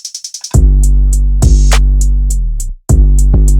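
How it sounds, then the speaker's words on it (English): Loud, sustained 808 bass notes from FL Studio drone and glide under a hip-hop drum pattern of kicks, snares and rapid hi-hats, the bass cutting out briefly before returning. "And with the 808."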